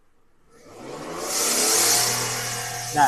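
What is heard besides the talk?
Toyota Crown engine revving, exhaust gas leaking from blocked pipe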